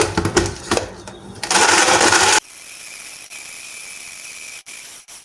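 A blender crushes ice with watermelon and strawberry for a frozen drink: loud rattling grinding bursts at first, then a dense roar, abruptly dropping to a smoother, quieter whirring hum with a few brief dips near the end.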